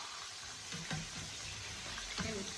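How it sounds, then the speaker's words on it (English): Steady crackling sizzle of chicken frying in hot oil, with a few louder pops and clinks partway through. "This chicken's been frying now for about, I would say almost 15 minutes actually"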